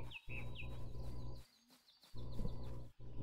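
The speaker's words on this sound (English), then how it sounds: "There's some birds" Birds calling in the Titan Quest video game: short chirping calls break out over a droning ambient game soundscape, with a quiet gap in the middle before the background resumes.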